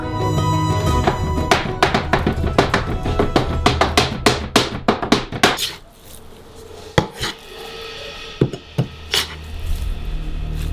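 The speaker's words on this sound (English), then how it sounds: "With the help of 2 hatchets, we make some minced meat." Two hatchets chop meat into mince on a board, giving rapid, steady, loud wooden thuds. The rhythm thins into scattered individual strikes toward the end.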